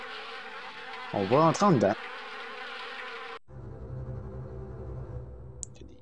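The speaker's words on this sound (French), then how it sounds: "Il y a des guêpes partout." Wasps buzz close by in the Harvester video game, a droning hum with a sharper wavering buzz swelling briefly early on, while someone speaks French over it.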